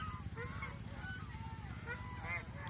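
Domestic geese on a goose farm give repeated nasal honks over a steady low background hum, several calls overlapping at moderate distance with no talk.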